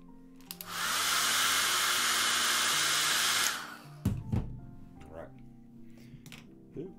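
A hair dryer blows on a large painted model, a loud, close, steady rushing whoosh that starts after a brief pause, runs about two and a half seconds and cuts off, followed by someone talking.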